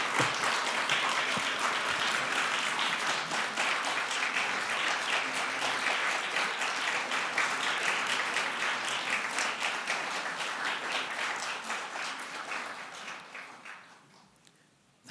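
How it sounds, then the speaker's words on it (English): A Law Society admissions ceremony audience stands and claps for its supporters, a full, sustained wave of applause that stays loud and even before tapering off sharply near the end. "give them a big round of applause to show them just how grateful you are for their support"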